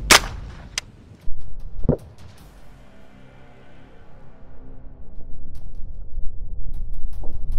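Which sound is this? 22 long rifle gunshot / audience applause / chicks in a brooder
22 long rifle gunshot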